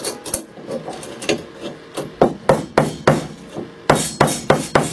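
A hammer strikes a nail to bend it over and clinch it on a wooden hand saw: about a dozen sharp, close blows in an uneven rhythm, ringing a little against the wood, with no voices.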